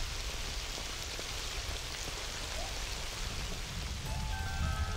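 Steady rain falls at the edge of the desert in a dense, continuous hiss with no other sounds standing out.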